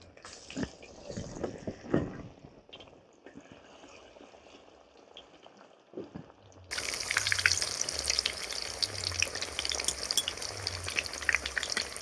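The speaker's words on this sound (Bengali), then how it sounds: "তেল গরম হয়ে গেছে এবার আমি বেগুনিগুলো ভেজে নেবো" Eggplant fritters, beguni, fry in very hot oil, first with scattered clinks and stirring, then a sudden loud, dense sizzle and crackle that carries on steadily to the end.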